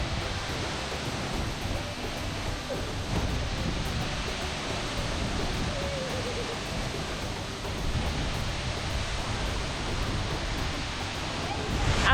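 Tagbo Waterfalls in Ghana's Volta Region flow with a steady, broad roar of falling water that holds constant throughout, dense and noisy with no distinct events standing out.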